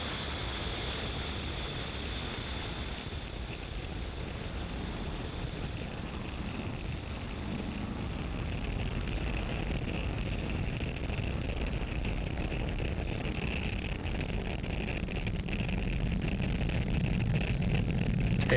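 A Falcon 9 rocket lifting off from Space Launch Complex 40 at Cape Canaveral, Florida, heard as a steady, broad roaring rumble that holds throughout and grows slightly stronger and crackly in the later part.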